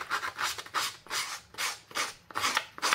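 A sheet of paper is scratched and roughed up by hand to give it a grungy look for a craft tracker. Rapid, close scraping strokes come in an uneven rhythm, with no voices.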